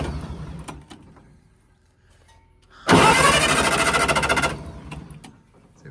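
A 1960 military generator engine cranks over in one loud, rapid churning burst of about a second and a half. Quieter clanks and handling noises come before and after it, and no one speaks.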